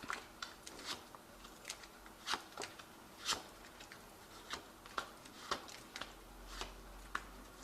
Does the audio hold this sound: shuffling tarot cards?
yes